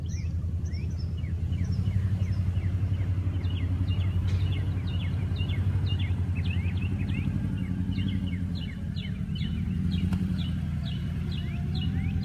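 A Toyota Tundra TRD Pro truck idles or rumbles at an off-road event in Texas, a steady low engine drone held throughout while many birds chirp repeatedly above it.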